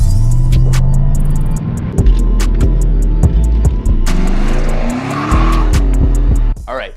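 A 1993 Lexus SC400 runs hard on an autocross course, its engine revving loudly and steadily with repeated sharp tire squeals and skids as it corners, close and continuous for several seconds.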